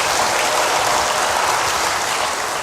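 A church congregation claps steadily together during a worship service, forming dense, continuous applause that fills the space at a loud, even level with no voices standing out.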